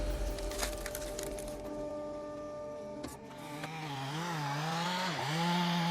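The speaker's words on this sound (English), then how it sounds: "the roar of a chainsaw breaks the silence as a logger skillfully fells a towering tree" A chainsaw roars steadily as a logger fells a towering tree in a frozen landscape, the motor pitch rising and dipping as the bar bites into the thick trunk, loud and close after a brief mechanical lead-in.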